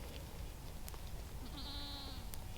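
A Kiko goat bleats once in a wavering call over a noisy outdoor background near a fence, with a couple of faint clicks around it.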